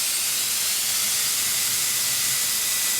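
An electric air blaster at full power makes a loud, steady rush of blowing air that fills the whole clip, a broad hiss with no pauses or changes.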